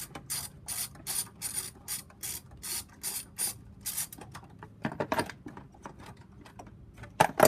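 A ratchet wrench clicks in quick bursts while unbolting a bolt in the engine bay of a 2005 Hyundai Accent, close and crisp, with several rapid runs of clicks and a few heavier metallic knocks near the end.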